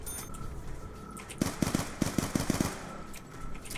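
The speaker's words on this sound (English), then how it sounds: "I don't normally shoot on round one, but they were clustered, so I thought I would" Quick bursts of gunfire in Black Ops 2 Zombies on round one: about eight sharp, evenly spaced shots in a row, moderately loud over low game ambience, with no talking.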